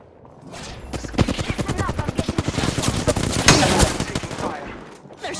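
Rapid automatic gunfire in an Apex Legends match, a dense string of sharp shots rattling steadily for several seconds with a louder burst near the end.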